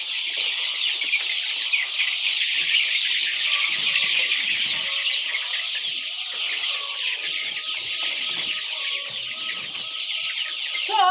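A flock of chickens bustling about inside a coop, with dense overlapping clucks and squawks forming a steady, lively chorus close by, no talking.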